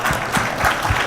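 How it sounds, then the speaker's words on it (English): Applause from an audience at a sports-business panel event, a short dense burst of clapping that stays steady and fairly loud throughout. "So let's give them a round of applause."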